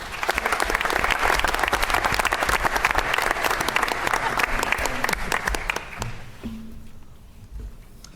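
Audience applause at a board of education meeting, dense steady clapping from a room of people for about six seconds, then tapering to scattered claps as the room quiets.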